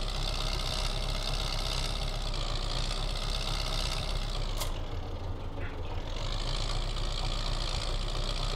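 A tractor engine idles steadily in Farming Simulator 2015, a loud, continuous low rumble with a brief dip and a short click midway.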